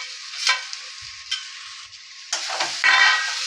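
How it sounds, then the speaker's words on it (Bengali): Potatoes and bitter gourd land in hot oil with spices, sending up close bursts of crackling sizzle that surge louder toward the end, with faint thumps from stirring. "আমি এখন এই আলু আর করলাটা সব দিয়ে দিচ্ছি।"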